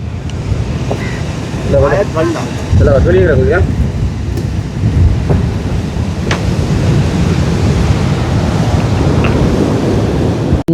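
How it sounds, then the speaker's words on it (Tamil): Rough sea surf crashes on the shore at Mullaitivu in a loud, continuous broadband roar, with a voice briefly speaking over it early on. "காலையில் பார்த்தோன்னா கடல் அடி பயங்கரமாக இருக்குது"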